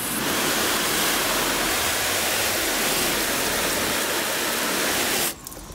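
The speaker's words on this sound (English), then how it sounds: "the paste wax, the water is running off way quicker" Water from a hose spraying and sheeting off a car panel coated with Meguiar's paste wax, a loud dense steady hiss that stops abruptly near the end.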